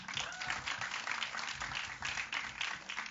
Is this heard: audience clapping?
yes